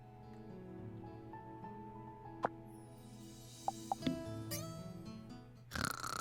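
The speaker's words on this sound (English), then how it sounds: "You guys get to listen to her snoring for a little bit." A female character snores in the video game The Good Life, a few slow, soft drawn-out snores over a steady musical game background, with brief sharp clicks here and there.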